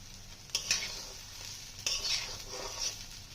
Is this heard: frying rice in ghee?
yes